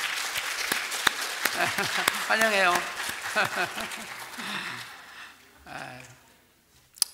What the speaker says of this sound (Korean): 우리 한번 환영의 박수 한번 치겠습니다